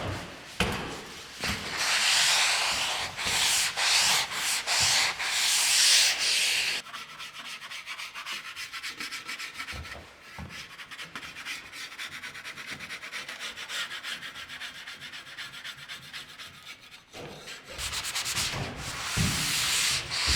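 Drywall mud being sanded by hand on a wall patch high up, steady scratchy rubbing strokes in repeated bursts, loud and close throughout with a quieter stretch in the middle, no voices.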